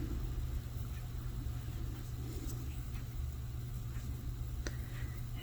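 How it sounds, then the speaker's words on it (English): Loud traffic outside a house, a constant low rumble of car engines heard through walls, muffled and steady, with faint clicks nearby and no talk. "I've got an awful lot of loud traffic going on outside my house today"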